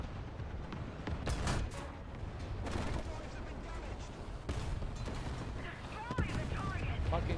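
Rapid .50 cal machine gun fire from a tank in War Thunder, dense bursts of rattling shots over constant engine rumble and battle noise, fairly loud and continuous throughout.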